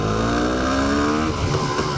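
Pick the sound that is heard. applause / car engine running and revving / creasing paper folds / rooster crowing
car engine running and revving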